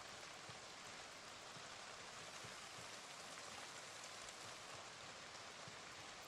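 Rain in the video game Project Zomboid, a steady, soft hiss of falling rain with scattered drop patter, continuous and even throughout, with no voices.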